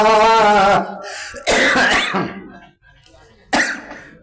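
A person coughs a few times in short harsh bursts during a sermon, close and loud, with a pause between fits.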